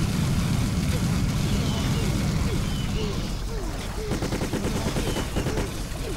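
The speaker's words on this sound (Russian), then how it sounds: "Кто там взрывается так?" Explosions and rapid gunfire in the video game The Kreed, a continuous loud battle din with dense bursts and crackling shots that keep going without letup.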